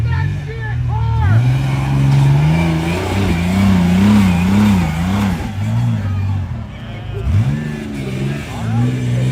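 A rock crawler's engine revs hard on a hill climb at a WERock competition, the pitch rising and falling in surges, loud and close, with voices talking over the engine noise.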